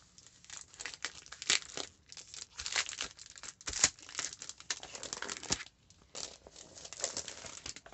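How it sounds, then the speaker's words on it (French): Chipboard pieces from a craft collection being unwrapped from their packaging, a steady run of close plastic crinkling and tearing with short pauses, no talking. "c'est les chipboards de la collection que je vais ouvrir parce que je ne les ai pas encore ouverts."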